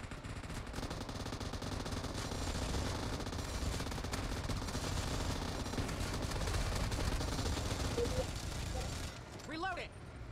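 Sustained M249 machine gun fire from PUBG Mobile in Ragegear mode, a dense unbroken stream of rapid shots that runs loud for about nine seconds before easing off, with brief electronic game effects at the end.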